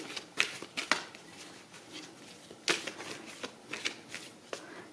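Petit Lenormand oracle cards being shuffled by hand, soft close riffling and slapping in an irregular run of crisp flicks and taps, quiet, with no voice over it.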